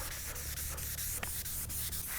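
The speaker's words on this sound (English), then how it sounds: "Same thing, we're going to use a sanding block." Close, quiet wet sanding: a sanding block scrubs back and forth in quick, even strokes over smooth gel coat.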